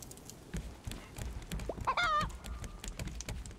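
A chicken in the survival game Raft clucks after laying an egg, a short rising cackle near the middle, set against steady game ambience.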